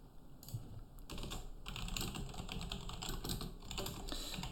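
Fast typing of TypeScript code on a computer keyboard, dense clattering keystrokes in quick bursts with brief pauses, close and steady, no voices.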